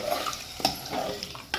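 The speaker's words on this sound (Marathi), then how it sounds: "आतां तें उदीक तितून घालता" Water poured into a sheera mixture in a home kitchen, a soft continuous splashing pour with brief clinks from the pan, close and moderately quiet, no talking.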